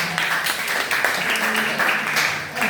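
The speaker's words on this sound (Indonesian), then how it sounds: "Tepuk tangan kelompok 1." Students in a classroom clap for group 1 after its presentation. The clapping comes in uneven bursts that swell and fade, with voices mixed in underneath.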